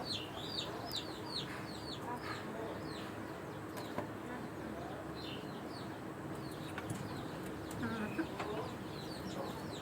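Two tiger hens and other free-range country chickens feeding on water spinach cluck and chirp faintly at a distance, scattered over a steady hiss of outdoor background noise.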